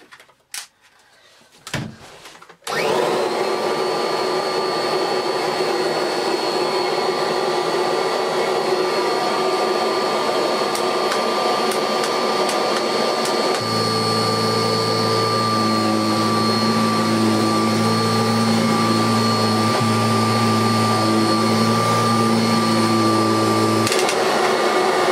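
A 1989 Kirby Legend 2 upright vacuum cleaner switches on after a few clunks and then roars loudly and steadily, its pitch dropping into a deeper drone partway through as the brush roll runs.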